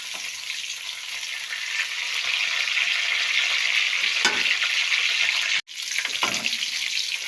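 Slit green chillies and spices fry in oil in a pan, giving a steady close sizzle that swells slightly, with a couple of stirring scrapes and a brief cut near the end.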